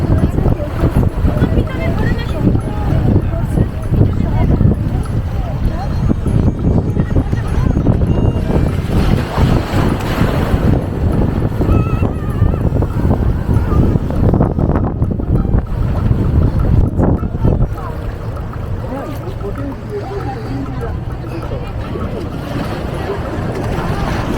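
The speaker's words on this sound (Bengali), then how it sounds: "এই এখনও একটা ট্রলার আসছে দেখতে পাচ্ছেন" A fishing trawler's engine rumbles steadily as it arrives at Digha, under strong wind and lapping water, with someone talking over it for most of the time.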